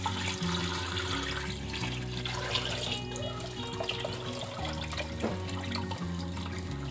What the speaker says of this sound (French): Et là, je vais remplir d'eau.